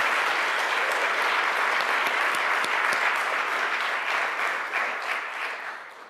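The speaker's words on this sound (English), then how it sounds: "Can we just give like a round of applause to SRLP and the amazing work that it does?" A lecture-hall audience at an award lecture gives a sustained round of applause, a thick even wash of many hands clapping that gradually tapers off at the end.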